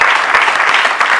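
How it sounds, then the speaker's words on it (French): A church congregation claps enthusiastically in praise during a sermon, a brief, loud, dense burst of applause filling the whole moment. "Applaudissez pour Jésus."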